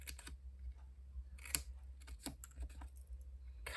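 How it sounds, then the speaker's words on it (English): Scissors snip and notch cardstock for an exploding gift box lid, giving a run of short, crisp cuts and clicks at close range. The cuts come in uneven bursts and sit over a steady low background hum, with no talk. "so cut and notch and notch"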